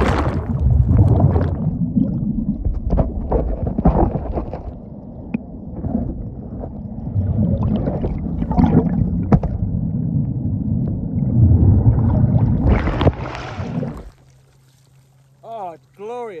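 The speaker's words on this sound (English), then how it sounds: "I'm about to jump in the water" Someone jumps into clear sea water off a beach club in Cozumel, Mexico, with loud splashing and churning water near the microphone. Brief talk comes in under the noise, and it cuts to a quiet stretch near the end.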